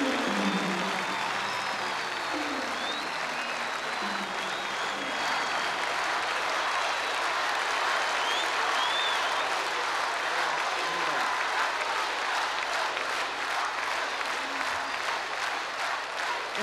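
A festival audience applauding at the 1990 Viña del Mar festival in Chile, a dense sustained wash of clapping from a large crowd filling the whole stretch, loud and steady, with occasional cheers and a voice speaking over it.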